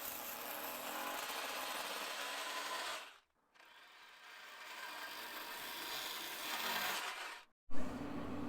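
A power drill bores holes for Domondo roller shutter rails in two long, steady, loud whirring runs, each ending in an abrupt cutoff, with a brief restart at the end.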